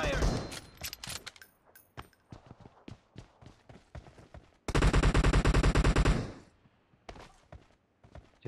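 Gunfire in the PUBG Mobile deathmatch mode: a string of sharp single shots followed by a loud, dense burst of rapid automatic fire, close and dominant, then a few more isolated shots.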